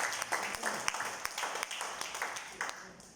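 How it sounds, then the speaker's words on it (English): Audience clapping at a talk, a thin, quiet patter of scattered hand claps from a modest crowd, steady and uneven throughout with no voices over it. "Can I have a round of applause louder, please?"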